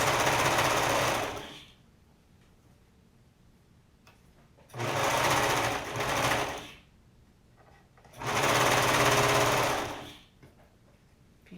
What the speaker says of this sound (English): Okay, I'm gonna sew all these up really fast.